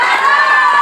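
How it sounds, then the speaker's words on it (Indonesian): A large audience at an indoor gathering in Bogor, Indonesia, lets out a short, loud burst of cheering and shouting in high, sustained voices. "Tepuk tangan dulu buat Makassar ya."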